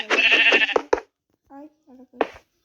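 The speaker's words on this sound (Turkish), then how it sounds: "koyun" Sheep bleating in the Minecraft video game, one long loud wavering bleat followed by a few shorter, fainter calls and a final sharp bleat, close up and alone.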